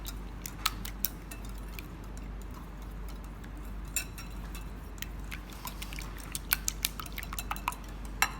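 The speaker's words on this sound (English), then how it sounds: "some salt, some pepper, and we're gonna mix this in again" Utensil taps and clinks against a bowl while salt and pepper are mixed into beaten omelette eggs, sparse and irregular, quiet and close with a faint background hum.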